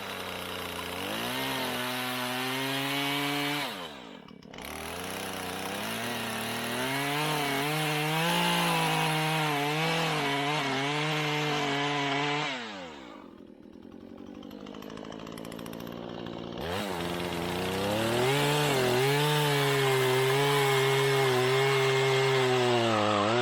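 A chainsaw carves a sink bowl out of an old wooden boat keel, cutting loudly and close with steady high engine whine, revving down briefly twice, then cutting again.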